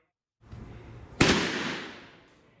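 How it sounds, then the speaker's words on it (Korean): A single sharp gunshot cracks out over a low rumble of background noise inside Hopo subway station in Yangsan, South Korea, bringing down a wild boar; its echo fades over about a second. "이내 총소리와 함께 멧돼지가 쓰러집니다."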